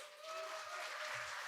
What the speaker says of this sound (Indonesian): Tepuk tangan untuk Medan.